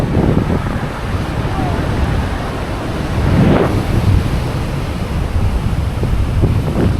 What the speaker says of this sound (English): The water's really flowing, and it's beautiful and windy.